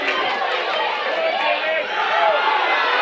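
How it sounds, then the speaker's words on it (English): Spectators at a ladies' Gaelic football junior final (Ballymacelligott v Cromane) roar and chatter as a broad, restless crowd noise after a foul, with a commentator talking over it. "There's the foul, and the crowd are getting a bit worked up now"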